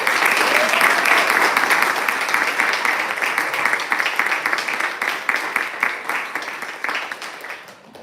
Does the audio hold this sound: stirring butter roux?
no